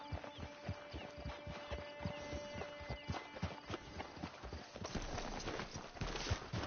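Horse hooves clip-clop at a steady walking rhythm in the Red Dead Redemption 2 video game, close and even, thickening near the end with rustling movement and no talking.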